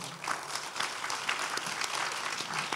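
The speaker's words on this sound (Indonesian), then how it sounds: "Kita beri tepuk tangan untuk jawabannya." An audience at an innovation conference panel claps for a speaker's answer, a brief, dense burst of applause from a seated crowd, steady and without talk.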